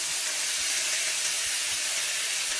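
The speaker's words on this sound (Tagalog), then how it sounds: "ilagay na natin dito yung ating chicken. At igisa nga lang natin ng chicken." Chicken sautés with ginger in a hot pan, giving a steady, close, bright sizzling hiss that never lets up, with no talking.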